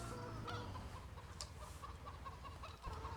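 Chickens in the Farming Simulator 17 farm game cluck quietly and repeatedly over a low, steady rumble of background noise.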